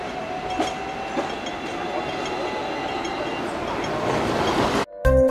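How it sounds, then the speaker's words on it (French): Tram or rail car at a Hong Kong tram station bound for Victoria Peak, a steady rumbling run with rhythmic clicking of wheels over rail joints, close and continuous before cutting off abruptly near the end. "j'arrive à la station de tram qui va m'emmener au Pic Victoria"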